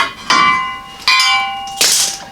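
Three sharp metallic hammer blows with ringing decay as a pipe is driven into a rusty Jeep Wrangler YJ front frame rail, evenly spaced and loud at close range.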